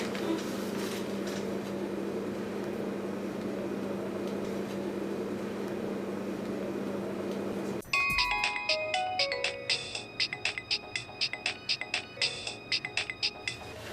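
A phone ringtone in an office starts about halfway through, a bright repeating electronic melody with steady pulsing notes that carries on to the end, following a stretch of quiet room hum.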